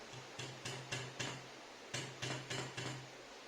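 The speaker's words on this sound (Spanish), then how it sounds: "Le dais un golpecito para que entre." Light hammer taps seating the hammer spring into a Hatsan Factor air rifle, eight quiet, close metallic knocks in two groups of four, evenly spaced and without talking.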